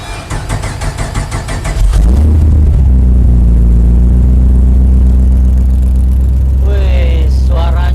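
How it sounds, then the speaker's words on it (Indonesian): Offroad tubular racing car engine cranks on the starter button and catches at about two seconds, then settles into a loud, steady, deep idle that fills the rest of the cabin recording, with a brief voice near the end. "Kita start ignition-nya, pencet ini starter."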